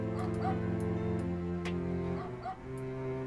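A dog whimpering and yipping in the video game Headliner: NoviNews, short whines and small yaps over a steady hum of game music and ambience, fairly close and continuous.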